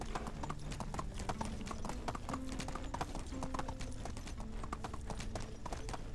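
Horse hooves clip-clopping at a steady walking rhythm while riding in the Medieval Dynasty video game, crisp repeated hoof strikes close by over a low background hum.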